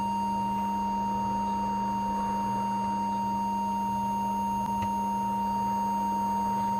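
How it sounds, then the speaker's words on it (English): A signal generator feeds a test tone into a vintage Sadelta desk microphone. It holds a steady, unbroken pure tone with a few faint harmonics and one tiny click partway through. "signal generator, tone generator, to pop a tone into the microphone"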